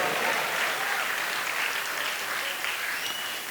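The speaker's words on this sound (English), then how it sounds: "Once again, big round of applause for Adarsh." A crowd at a Kannada rock concert applauds, a dense, loud, even wash of clapping that holds steady throughout with no voices over it.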